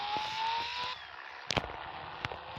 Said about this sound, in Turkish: Araba kayıyor.